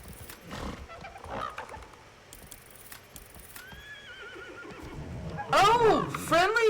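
Horses in the survival game Icarus whinny in a couple of sharp, warbling neighs near the end, preceded by scattered in-game clatter and a faint rising call, with a voice talking over parts of it.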